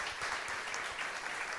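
Audience applauding at a Brazilian Portuguese sermon, a steady dense wash of clapping lasting under two seconds at moderate volume with no talk over it.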